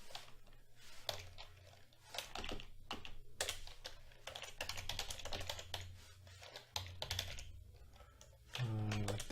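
Quiet, close clatter of computer keyboard typing in irregular bursts of keystrokes with short pauses, ending in a brief low tone.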